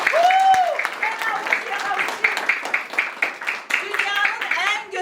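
Children and an audience at a children's shelter event clap in scattered, uneven bursts, close, mixed with voices and a high whistle-like tone at the start.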